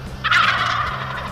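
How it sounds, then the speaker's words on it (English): Wild turkey longbeards gobble loudly and close by in a hunting setting, a rattling burst that rises and then trails off over a steady low background rumble, with no voices. "All longbeards, spitting and drumming, gobbling right in our face."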